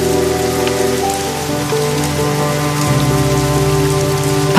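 Rain falls in a steady, dense hiss of drops on a surface, loud and continuous, with sustained musical tones layered over it.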